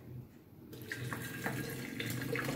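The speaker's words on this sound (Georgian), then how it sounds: "ეს გადავყაროთ და ცხელი წყალი ჩავასხად ახლა." Hot water pours steadily from a kettle into a cup or pot while tea is being made, a continuous close splashing flow that swells and grows slightly louder as the vessel fills, with no talking.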